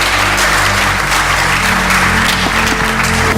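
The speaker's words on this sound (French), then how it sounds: "je voudrais une fois encore vous prier, mesdames et messieurs, d'applaudir très fort l'ambassade des États-Unis" Loud applause from the audience at a Model United Nations event in Cotonou, honoring the United States embassy, with dense continuous clapping over a steady low hum from the sound system throughout.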